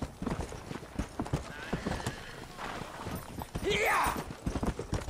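Horse hooves clip-clopping in the Western game Red Dead Redemption, a quick uneven patter of hoofbeats under game voices, with a horse's whinny rising briefly near the end.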